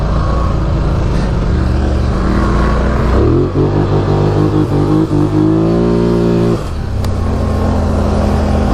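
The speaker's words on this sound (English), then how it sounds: "I love engine braking" A Polaris Sportsman 1000 XP ATV engine braking downhill, its loud engine drone shifting pitch as revs fall and rise, with steady mechanical rumble throughout and no talk.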